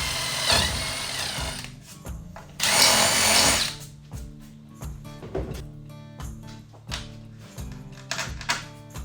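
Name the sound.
drilling a hole for a stand-up block on a sailboat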